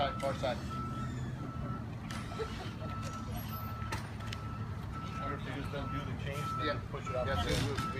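Construction trucks backing up on church property, with a steady repeating reverse beeper over idling engines and a rumbling outdoor background, and voices nearby.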